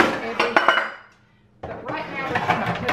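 Metal pans clatter and clank as they are sorted inside a kitchen cabinet, with a burst of knocks, a brief lull, then another run of rattling, fairly close and moderately loud.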